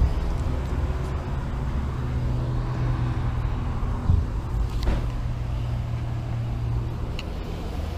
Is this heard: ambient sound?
yes